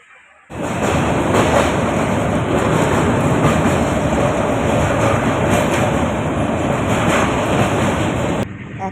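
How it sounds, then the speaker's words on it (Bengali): A passenger train pulling into a station before dawn, its loud steady rumble and clattering wheels starting abruptly and filling the scene, with a high-pitched whine above, then cutting off near the end. "অনেকক্ষণ থেকে ওয়েট করছি আমাদের ট্রেন এসে গেছে"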